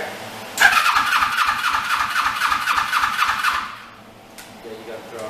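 A motorcycle engine on a bike being built is started: a loud, close burst of rapid firing pulses lasts about three seconds and then cuts out, followed by quieter background noise. People speak around it.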